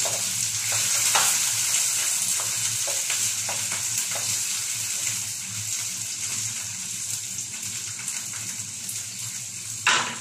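Onions sizzle steadily in a pan for pinakbet, a continuous close frying hiss with faint scraping stirs and a brief louder clatter near the end, no voices.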